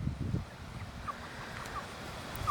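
Cornish Cross chickens grown to turkey size squawk and complain, a few loud low cries near the start followed by quieter scattered clucks and faint high chirps over a soft background hiss.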